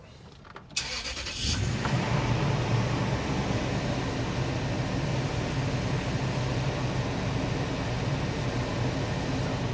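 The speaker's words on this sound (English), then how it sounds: "So I'll do a cold start here for you." A 2006 Toyota Tundra cold-starts with a brief cranking burst, then settles into a steady, even idle that drones on alone without any talk.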